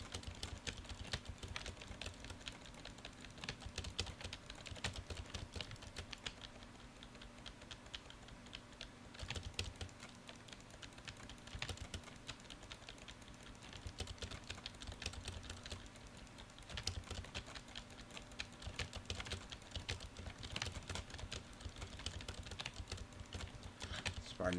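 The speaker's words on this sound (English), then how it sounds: "Pardon the clicking noise." Rapid, irregular clicking of a computer keyboard and mouse during a Zenless Zone Zero gaming session, close and continuous throughout with steady background game sound.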